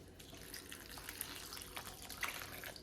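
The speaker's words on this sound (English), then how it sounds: "So I'm gonna add just water to the top so it's covering the berries." Water poured into a kitchen container of berries to cover them, a faint, steady running trickle with no talk.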